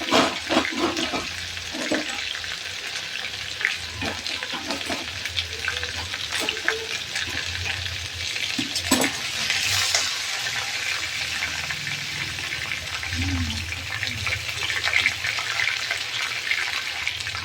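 A pot of soybean and chickpea dal cooking on the stove, giving a steady bubbling, sizzling hiss with occasional clinks and stirring noises, close and continuous throughout.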